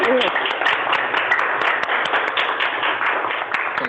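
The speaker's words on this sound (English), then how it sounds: "There's the applause" Applause at a virtual awards ceremony, with dense clapping running steadily throughout beneath a voice, sounding somewhat compressed and band-limited.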